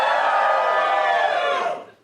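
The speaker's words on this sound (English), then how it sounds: "Give me a cheer if you haven't got kids." Comedy-show audience cheering loudly as a dense crowd of shouts and whoops, sustained for almost two seconds before quickly tailing off.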